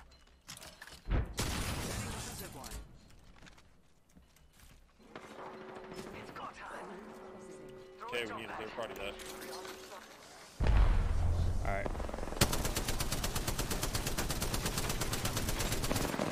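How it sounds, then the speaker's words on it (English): Gunfire in the Apex Legends game: scattered shots early on, mechanical clatter in the middle, then sustained loud rapid automatic fire toward the end, with players talking throughout. "I missed every shot"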